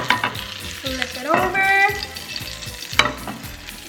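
A ciabatta pizza pocket fries in a pan, pressed down with a second frying pan. It makes a steady sizzle with sharp scrapes and clanks from the pan and utensil, and a voice speaks briefly.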